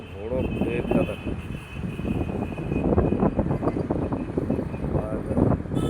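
A large airplane on the ground at Kolkata airport, its engines making a broad, steady roar with wind buffeting the microphone, while people talk nearby.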